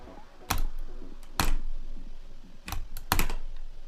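Computer keyboard keys are pressed during play of a platformer game, several sharp separate clacks in irregular bursts, some in quick pairs, close to the mic over a quiet background.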